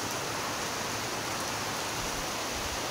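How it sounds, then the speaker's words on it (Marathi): Heavy rain pours steadily on Beloshi village in Raigad, a dense, unbroken roaring hiss with no pauses and no voices. "पाऊस एकदम जोरात आलाय गावी."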